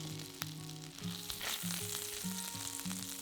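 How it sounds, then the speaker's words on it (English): Minced garlic and salt stirred in foaming butter, a soft crackling sizzle under a faint melodic tone, broken by a few sharp clicks, fairly quiet and close with no talking. "Add in 2 cloves of minced garlic and 1/4 teaspoon of salt and stir for about 30 seconds."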